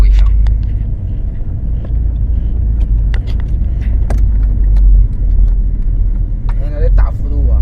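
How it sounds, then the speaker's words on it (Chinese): A car's chassis rattles as the steering wheel is swung back and forth on a quiet road, loud low rumble with scattered metallic clicks and knocks, and people talking over it. "咱们去摇这个方向盘，整个车身让它这样错的话，它也会响。"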